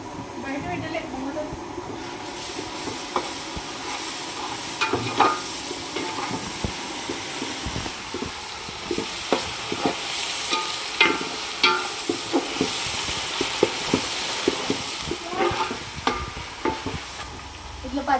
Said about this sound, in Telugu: ఇట్లా పచ్చివాసన అంతా పోయేలాగా మంచిగా కలబెట్టుకోవాలి